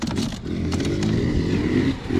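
Dirt bike engine with a loose exhaust: a loud, close, rough motor rumble with rattling, clattering vibration, steady throughout and revving slightly.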